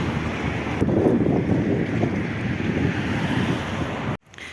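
Steady gusty wind roaring across the microphone, loud and continuous, with no voices, cutting off abruptly near the end.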